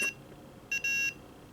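Two short, high-pitched electronic beeps from a Tamagotchi toy, the second one longer, sounding close and clear over a quiet background.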